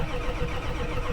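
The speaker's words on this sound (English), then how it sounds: "we have to crank it to spin that mechanical fuel pump and suck the fuel up" A diesel truck engine cranks steadily to spin its mechanical fuel pump and draw up fuel, a continuous churning drone heard close.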